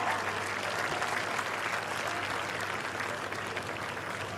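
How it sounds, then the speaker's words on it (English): Crowd applause at the Farnborough International Airshow after a British Army Red Devils parachute display: steady, dense clapping from a large outdoor audience, even in level across the whole stretch with no talk over it. "please give one big final round of applause for the British Army's world-famous Red"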